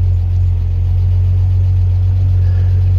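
A vehicle engine idles while warming up, giving off a steady, loud, low hum and rumble that holds an even pitch throughout, with no talk over it.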